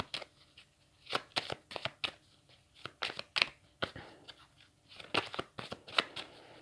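Oracle cards shuffled by hand close up, a run of crisp riffling bursts and soft slaps in an uneven rhythm, with brief pauses between shuffles and no talk.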